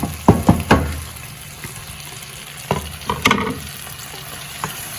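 Chopped tomatoes dropped into a hot pan give a few sharp splashes and clatters, then a quieter sizzle with scattered scrapes and taps as they are stirred.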